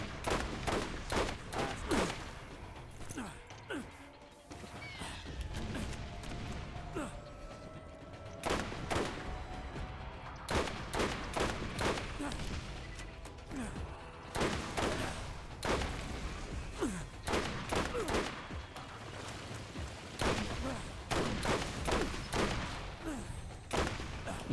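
Rapid bursts of gunfire in the shooter video game Borderlands, with repeated sharp shots and clustered volleys separated by short pauses, fairly quiet overall.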